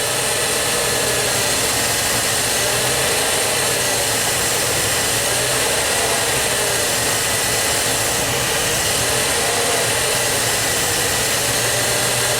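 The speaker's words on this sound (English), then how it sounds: "even though the truck is surging up and down" A Dodge truck engine idles with a rough, erratic surge, its steady broadband running noise rising and falling slightly throughout, close and alone with no talking.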